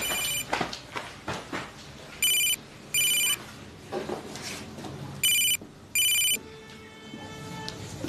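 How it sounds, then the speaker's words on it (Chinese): A telephone rings in a home in a Chinese TV drama, with repeated bursts of an electronic ringtone separated by short gaps, close and clear, and faint background sounds between the rings. "哟，电话，我接电话啊。"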